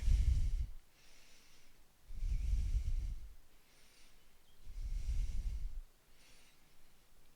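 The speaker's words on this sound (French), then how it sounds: "Et je respire." Slow, deep breaths during a yoga balance pose, three long audible inhale-exhale cycles that are close and breathy, with quieter pauses between them.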